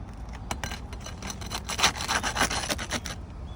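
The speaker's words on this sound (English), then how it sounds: "I'm also using a metal scraper as far as getting the shingles loosened" Steady rasping scrape of a metal scraper working loose shingles on a damaged roof, continuous and fairly close, with rhythmic strokes and no talk.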